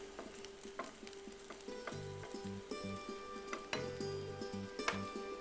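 Food sautéing in a pan until light pink, a steady sizzle punctuated by regular clinks and scrapes of a spoon stirring against the pan, close and moderately loud with no talking.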